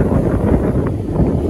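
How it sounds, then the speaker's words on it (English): Gusty wind at a beach buffets the microphone, a loud low rumbling roar that rises and falls throughout. "And the wind's blowing a lot today."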